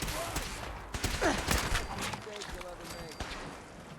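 Gunfire from the video game Fallout 4 bursts out in short, scattered volleys over a steady game soundscape, with a few sharper shots standing out near the middle.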